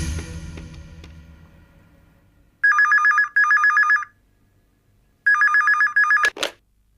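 A telephone bell rings in two separate bursts of rapid double rings, loud and close, against a quiet room with a faint low hum fading out beforehand, ending in a brief sharp clatter like the receiver being lifted.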